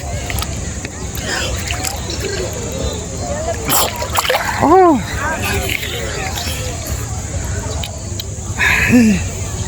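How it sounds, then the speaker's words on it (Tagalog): People dunking and splashing in cold river or pool water, with irregular splashes and sloshing under excited talk and chatter from a small group nearby. "Lubog tayo sandali."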